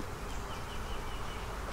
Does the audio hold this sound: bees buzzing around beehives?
yes